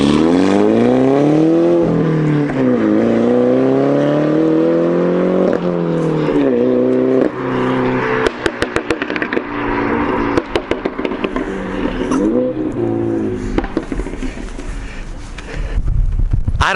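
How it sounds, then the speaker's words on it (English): A fully modified Mini Cooper engine revs and accelerates along a drive, loud and near, with rising and falling harmonic sweeps and a crackling rasp that fades toward the end. "surprising what this thing sounds like for being a Mini Cooper"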